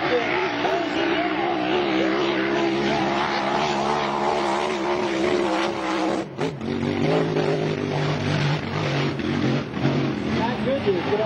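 A GP hydroplane racing boat at world championship testing in Morgan City roars loudly and steadily through a turn, then the throttle drops sharply and the engine note falls away while someone talks over it.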